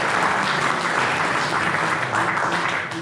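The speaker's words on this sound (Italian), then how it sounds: "Io farò un applauso anche a suo figlio, ragazzi" Sustained audience applause at a book presentation by Formula 1 driver Riccardo Patrese, dense steady clapping throughout at even loudness, tapering slightly at the end.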